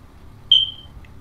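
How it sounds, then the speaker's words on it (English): A single short, high electronic chirp from a smoke alarm sounds once over quiet room tone, followed by a faint second blip. "That sounds like a smoke alarm."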